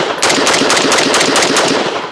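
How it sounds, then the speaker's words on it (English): Rapid rifle gunfire from a Maglock rifle fitted with a KLVR fixed magazine, a loud, dense string of close shots fired in quick succession with no talking. "I'm just going to shoot."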